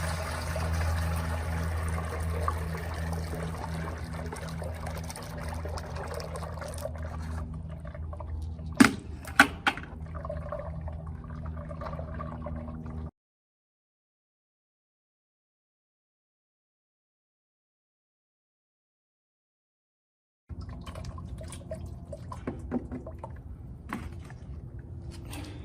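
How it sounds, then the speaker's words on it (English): Muddy water is poured through a 1mm classifier sieve for gold recovery, giving a steady trickling, sloshing wash with a few sharp knocks, then silence before the pouring resumes. "I guess I can just pour this right through here"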